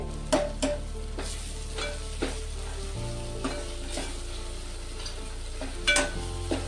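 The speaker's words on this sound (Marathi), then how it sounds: "मसाले छान भाजले गेलेत" Spices and coriander powder fry in a pan with a soft sizzle, punctuated by occasional clinks of a spoon stirring against the metal.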